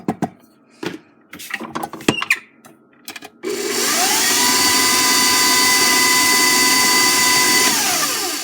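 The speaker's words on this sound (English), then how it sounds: "I'm going to mix it one more time" A motorized mixer whirs on in a bowl of apple brownie batter after several scattered knocks and clatters, then holds a steady loud whine close by until the clip ends.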